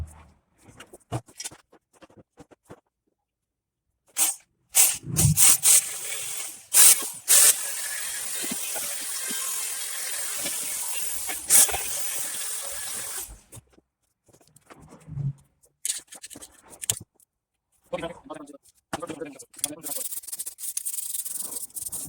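A drill-driven wire wheel scrubs a Jeep J20 brake wheel cylinder in bursts of harsh, hissing abrasion, close and fairly loud, separated by quiet gaps and brief handling noises.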